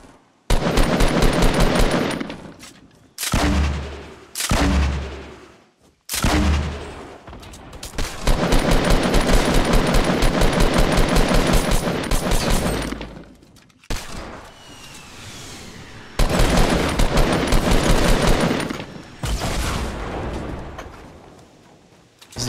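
Rapid automatic gunfire from Fortnite Battle Royale squad gameplay rattles in long, loud bursts separated by short gaps, with a few single heavier shots between the sustained sprays.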